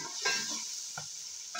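Tomato and green chili cooking in a pan during Ramadan meal prep, a soft steady sizzle with a few brief stirring scrapes, fairly quiet and with no talking.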